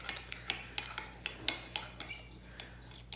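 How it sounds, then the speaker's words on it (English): A utensil clinks and taps repeatedly against a container while melted soap base for a small bar of kids' soap is stirred, a quiet, close, irregular series of sharp knocks with no speech. "All right, so that is all stirred in."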